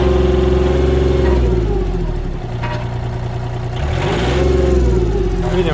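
A Komatsu PC10-7 mini excavator's diesel engine idles with a steady low rumble, then revs up and settles back again, close and loud, with no talking.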